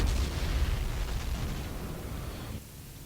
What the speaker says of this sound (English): Hearing Katyusha firing on the spawn.